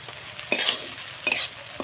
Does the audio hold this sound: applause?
no